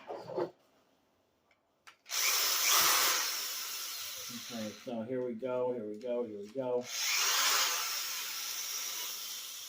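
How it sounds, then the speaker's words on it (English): A power drill whines in long bursts, grinding into material, with a brief spoken line between the runs. "I'm gonna drill a little bit faster"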